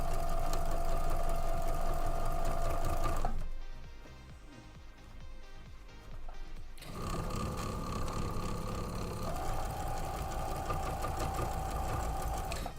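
A sewing machine stitches a poinsettia table runner pieced from charm squares, running in steady, close bursts with a brief pause in the middle before the motor resumes its continuous whir.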